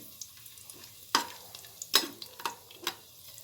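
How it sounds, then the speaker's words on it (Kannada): Cinnamon, cloves and cardamom frying in hot oil for a veg biryani give a faint, soft sizzle, broken by several sharp scrapes and clicks of a spoon stirring in the pan. No one speaks. "ಚಕ್ಕೆ, ಲವಂಗ, ಏಲಕ್ಕಿ 3 ಹಾಕ್ತಾಯಿದ್ದೀನಿ. ಸ್ವಲ್ಪ ಫ್ರೈ ಆಗಲಿ"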